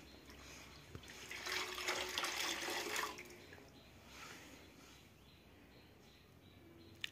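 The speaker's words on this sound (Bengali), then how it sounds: "এই গামলাটার মধ্যে লবণ আর গরম জল দিয়ে একটু" Hot salted water pours and splashes into a basin for a few seconds, then fades to a softer trickle, close by and without speech.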